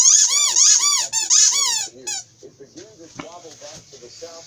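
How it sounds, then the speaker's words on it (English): A dog chews a squeaky Deer Bites toy, producing a rapid run of high, whistling squeaks in quick bursts, close and loud, then a few softer squeaks trailing off. "let's hear it squeak"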